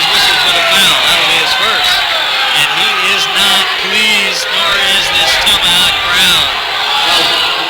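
The Tomahawk home crowd at a high school basketball game reacts with loud, sustained murmuring and scattered shouts of displeasure over a foul call, filling the gym under an announcer's voice.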